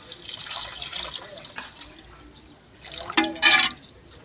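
Water poured into a cooking pot over an outdoor cooking fire, a trickling, splashing flow that swells loudly near the end, with short bursts of liquid and no talk over it.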